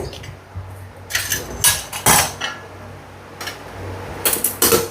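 A plastic lunch box lid is pressed shut in a home kitchen, giving a cluster of close, loud snapping clicks and rattles in quick bursts, alone with no talk.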